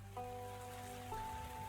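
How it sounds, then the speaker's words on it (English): Steady rain patters in the tavern of the video game Tavern Talk, a soft continuous hiss beneath sustained, gentle musical tones. "It's raining today."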